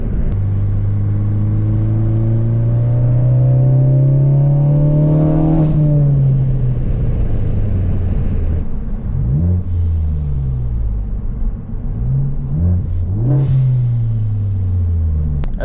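A Ford Focus ST engine revs hard from inside the car, rising in a long loud pull, then dropping and blipping through several quick throttle bursts, rowdy and close throughout.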